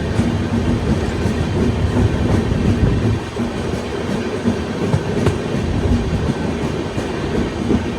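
Shri Ganganagar–Kochuveli Express train rolling slowly into a junction, a steady close rumble with continuous wheel clatter and rail noise throughout, no voices.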